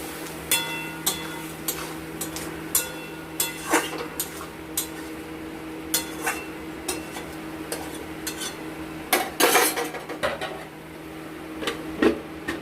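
A spoon scrapes and taps against a pan while spice paste with a little water is stirred over medium flame for a fish curry with potato and taro, giving irregular close clinks over a steady low hum.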